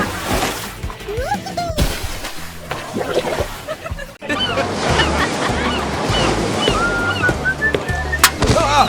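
Surf and breaking waves wash steadily along a trash-strewn beach, with gusts of wind on the microphone and a brief break partway through, while toy-like tones and clattering sounds play over the water.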